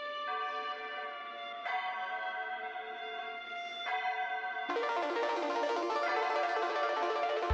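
Bell-tower chimes ring in an electronic music production. A few struck, sustained tones sound over layered pads before the texture grows denser and louder.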